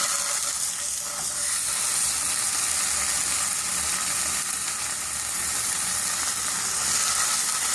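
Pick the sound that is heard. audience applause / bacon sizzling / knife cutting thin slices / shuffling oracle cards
bacon sizzling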